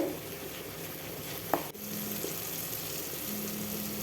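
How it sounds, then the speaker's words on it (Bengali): Quiet, continuous sizzle of food frying in oil, with a soft clink of a utensil partway through; no speech. "আবারও অল্প কিছুক্ষণ সময় ভেজে নেব দেখুন ভাজতে ভাজতে এরকম তেল ছেড়ে এসেছে"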